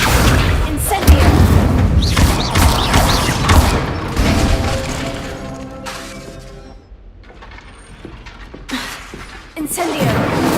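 Incendio fire spell blasts in Hogwarts Legacy, loud booming bursts and crackling impacts in a dense game soundscape, with a voice calling out spells, a lull mid-way, then more blasts.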